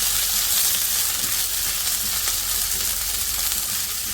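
Potatoes with onion, capsicum and green chillies stir-fry for a honey chilli potato starter, giving a steady, dense sizzle and hiss throughout with no talking.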